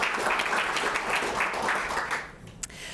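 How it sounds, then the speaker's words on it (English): An audience of legislators applauds during an address to the Alaska State Legislature, a dense, lively burst of clapping that fades out over a few seconds, ending with a single sharp clap. "I'll clap to that"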